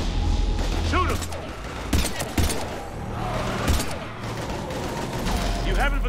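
Gunfire in Mass Effect 3, bursts of shots and sharp impacts scattered through a busy combat mix with mechanical clanks and thuds, loud and close, with shouted voices in between.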